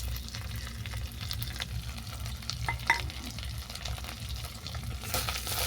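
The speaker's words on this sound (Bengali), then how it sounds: "এই মশলাটাকে আমি ভালো করে কষিয়ে নেব।" Ground spices (chilli, turmeric, coriander, cumin and garam masala) with sugar being stir-fried in a pan for a watermelon muitha curry, giving a steady close sizzle with scraping stirs and a louder scrape near the end, no talk.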